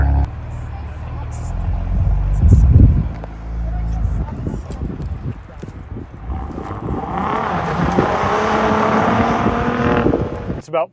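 A Saab 900 turbo engine rumbles and revs, then the exhaust note rises and drones steadily as the car pulls away.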